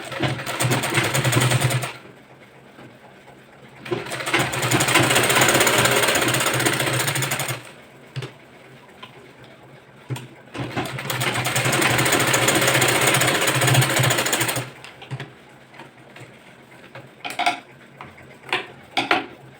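A sewing machine stitches tucks on a boat-neck blouse in two long, loud runs of rapid mechanical chatter, each a few seconds long, separated by quieter pauses and light handling clicks.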